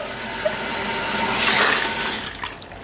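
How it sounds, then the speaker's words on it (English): Running water rinsing toner out of curly hair at a sink or shower, a steady broadband splash that swells in the middle and tapers off near the end, heard alone without talk. "Rinsing out my toner."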